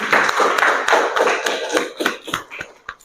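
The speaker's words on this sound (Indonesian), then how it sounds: "tepuk tangan dulu untuk kelompok 4" A classroom audience of students gives a short round of scattered hand clapping for a student group, loud at first and thinning to a few last claps.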